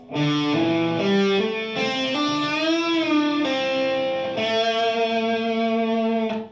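An overdriven electric guitar plays a flowing phrase of connected hammer-on notes, some slurred and one bent slightly, ringing steadily without pauses or speech.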